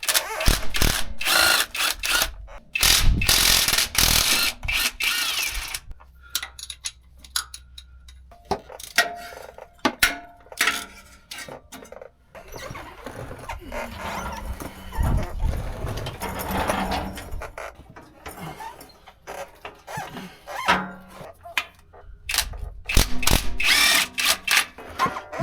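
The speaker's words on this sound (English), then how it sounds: "take off all the 12 millimeter bolts" Power tools removing 12 millimeter bolts from a transmission, with bursts of loud whirring and ratcheting broken by short pauses and clanks, close by and repeated throughout.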